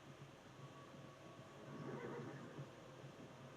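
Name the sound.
horse neighing in Red Dead Redemption 2 video game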